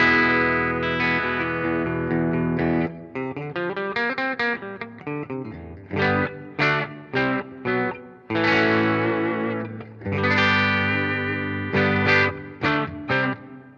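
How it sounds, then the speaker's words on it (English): A Kort G260 electric guitar played through a Zoom G1 set to a clean amp with reverb rings out in sustained chords and then short, choppy strummed stabs with brief gaps, loud and alone. "I'm using my Kort G260 guitar. So that's the guitar sound. I'm using a Zoom G1 on with a clean amp and a reverb."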